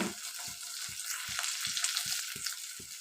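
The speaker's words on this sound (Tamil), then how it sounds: "இப்போ வெங்காயம் தக்காளி பச்சை மிளகாய் கருவேப்பிலை எல்லாம் நல்லா வதங்கணும்" Onion, tomato, green chili and curry leaves sautéing in a clay pot, a steady hissing sizzle with a regular beat of soft low stirring thumps about twice a second.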